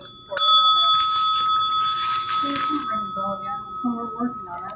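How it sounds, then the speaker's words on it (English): A bell rings with a bright, sustained metallic tone that lingers for several seconds, while people talk over it in the background. "Please don't ring the bell."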